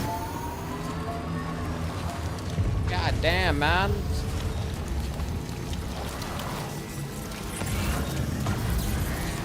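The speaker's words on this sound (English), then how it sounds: "Goddamn rain kicked up." Heavy rain in Death Stranding 2, a steady loud wash of hiss and patter filling the whole stretch, with someone talking over it and brief whooshing game sounds.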